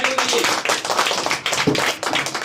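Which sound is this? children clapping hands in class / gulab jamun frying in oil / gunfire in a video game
children clapping hands in class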